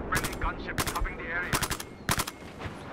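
Gunfire in the video game Battlefield 4: several quick bursts of sharp, loud automatic shots in clusters, separated by brief pauses filled with fainter game noise.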